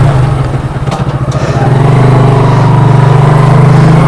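A motorcycle sets off at the start of a long road trip, its engine loud and close, a pulsing idle rising into a steady, smooth drone as it pulls away.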